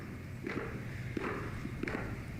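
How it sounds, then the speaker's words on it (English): Footsteps descend stairs from the crypt beneath the US Capitol during the inauguration, a few distinct hard-soled steps spaced about a second apart, moderately close and echoing over a steady ambient murmur. "We can hear the footsteps"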